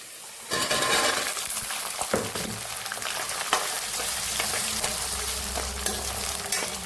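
Garlic frying in a pan for a Kerala-style garlic pickle, a loud continuous sizzle with occasional clinks and scrapes of a spoon stirring, close up and with no talking.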